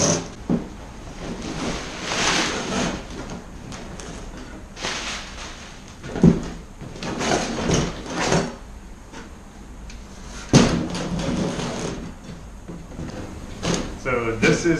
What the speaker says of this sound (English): So we'll go ahead and unbox this now.